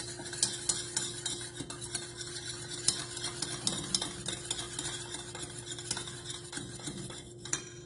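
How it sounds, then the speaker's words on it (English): Milk and lemon juice are whisked together in a bowl, giving a quick run of light ticking and clinking strokes against the sides that carries on steadily for several seconds, close and fairly quiet. "Go ahead and whisk that together"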